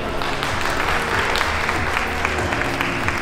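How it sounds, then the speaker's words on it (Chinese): Audience applause at the opening ceremony of an ADHD awareness week fun day in Hong Kong, a steady wash of many hands clapping at an even level throughout, with no voices on top. "掌聲有請。"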